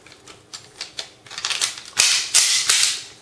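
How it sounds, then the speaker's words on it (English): KJW Sig P226 airsoft gas pistol firing with blowback: a run of sharp, snappy cracks, slow at first and then quicker and louder, close to the listener and with no talk. "the KJW gives you a pretty crisp blowback"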